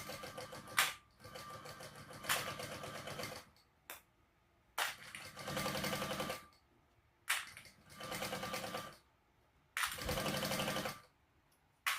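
A sewing machine runs in short bursts, basting along the bottom of a bag, with brief clicks and quiet pauses between the stitching runs.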